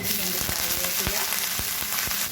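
Mustard seeds, small shallots and dried red chilies sizzle in hot oil in a pan with a steady hiss, pierced by scattered sharp pops and spatters, close and continuous with no voices.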